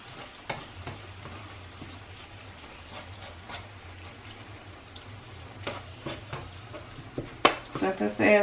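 Lean ground beef, one pound, browns in a frying pan with a faint steady sizzle while a utensil stirs and scrapes the pan, the clatter growing louder near the end.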